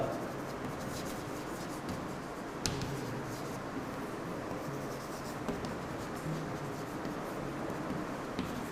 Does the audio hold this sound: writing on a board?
yes